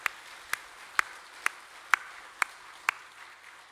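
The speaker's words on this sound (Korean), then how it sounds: "박수로 하나님께 영광 올려드리겠습니다" Slow, sparse claps in a church service, about eight single sharp claps spaced evenly around half a second apart, crisp and fairly close rather than a full congregation's roar.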